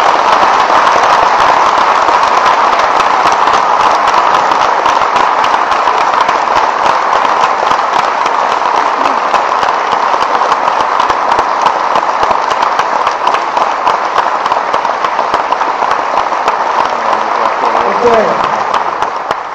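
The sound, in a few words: round of applause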